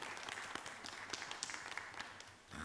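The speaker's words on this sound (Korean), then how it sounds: "우리 찬양팀 이렇게 새벽부터 나와서 헌신하는데 박수 한번 뜨겁게 하시면은" Church congregation clapping for the worship team at a dawn prayer service in a new sanctuary, a quiet, steady wash of applause heard from a distance for a couple of seconds.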